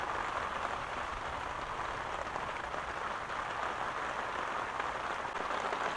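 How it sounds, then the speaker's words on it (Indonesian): Heavy rain falls at midnight on a tent pitched under coconut trees in Kampung Agong Penaga, a dense, even hiss of drops that stays constant and fairly close throughout, with no voices. "rupanya hujan lebat di tengah malam"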